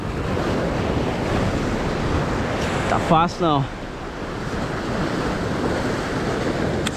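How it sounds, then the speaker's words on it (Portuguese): Strong ocean tide waves pound the shore in a steady, loud roar mixed with wind buffeting the microphone, while someone speaks briefly midway. "Maré batendo pra caramba, tá vazia."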